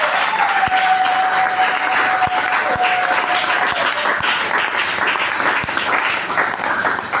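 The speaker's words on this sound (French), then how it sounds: "Il y a lieu de lui dire merci avec des acclamations." An audience at a church pastors' consecration ceremony breaks into loud, sustained applause and cheering, a dense wash of clapping with a brief whistle-like tone early on.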